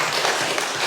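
A church congregation breaks into steady, dense applause during a Sunday service, a continuous wash of many hands clapping close by with no pauses through the short stretch.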